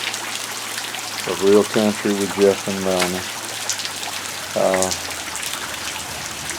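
Steady rain falling outdoors on a farm, a constant soft hiss throughout while someone talks over it.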